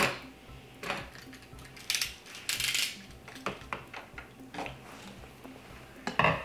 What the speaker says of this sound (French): le colorant, je vais mettre du colorant. Et je mélange.